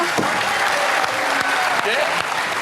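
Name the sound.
audience applause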